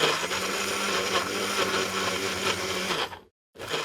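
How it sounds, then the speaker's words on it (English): A kitchen blender whirs steadily as it mixes food, a loud, close, continuous motor drone that cuts out abruptly near the end, then starts again briefly. "It's a blender mixing up something tasty."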